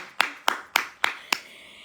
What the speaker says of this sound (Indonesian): Tepuk tangan untuk mereka berdua ya.